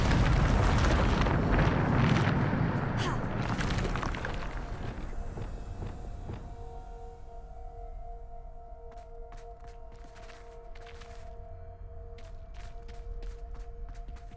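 A Bombarda spell bursts in Hogwarts Legacy with a loud, broad roaring blast that slowly fades into a lingering rumble, followed by a steady ringing hum and scattered light clicks.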